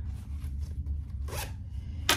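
A zipper inside a handmade Almendra bag is pulled open in rough, raspy strokes, with louder bursts toward the end over low handling noise.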